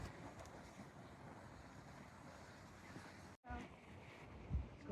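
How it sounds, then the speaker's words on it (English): Steady wind buffeting the microphone on the Appalachian Trail, a broad, continuous rushing roar that drops out for an instant and then returns with a gust near the end. "Wind's gonna last for a couple days"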